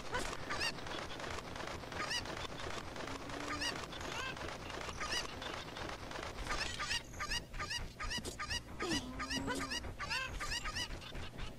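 A chicken in the Zelda Ocarina of Time video game, playing a randomizer mode, gives repeated squawking, honking clucks over continuous game background sound. The calls come in several separate bursts throughout.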